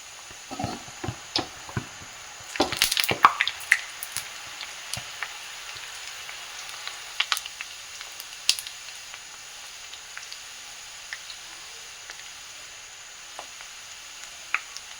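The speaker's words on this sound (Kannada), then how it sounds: "ಈಗ ನೋಡಿ, ಎಣ್ಣೆ ಬಿಸಿಯಾಗಿದೆ. ನಾನೀಗ ಇದನ್ನ ದಾಣಿಯನ್ನು ಹಾಕ್ಕೊಳ್ತಿದ್ದೀನಿ." Kara sev dough pressed into hot oil fries with a crackling sizzle, loudest in a busy burst early on, then settling into sparse pops and spits over a quiet background.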